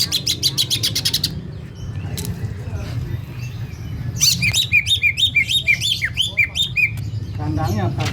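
Green leafbird (cucak ijo) sings loudly and close, rapid repeated chirping phrases and squawky trills in bursts, with a continuous low background hum and some mixed noise underneath.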